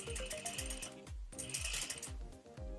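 A sewing machine stitches ready-to-wear garment pieces in a rapid, even mechanical clatter, close and quiet, running in two bursts with a short pause between them.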